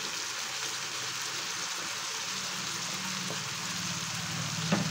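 A spice paste of chili, garlic, ginger and tomato sautés in a pan for minced-meat khichuri, giving a steady, moderate sizzle with a faint scrape near the end.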